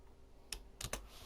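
Computer keyboard typing while searching for a camo texture: three quick clicks, one single tap followed by a close pair, sharp and near with nothing else around them.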